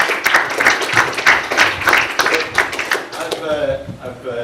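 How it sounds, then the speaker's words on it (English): Audience at a tech talk event applauds a newly introduced speaker, a steady round of close clapping that fades out toward the end, with a voice beginning to speak as it dies down. "please give a round of applause for Ken"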